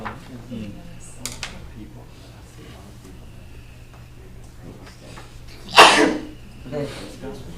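A single sharp sneeze bursts out partway through an alcohol license suspension hearing, loud and close, amid quiet room noise and faint background talk.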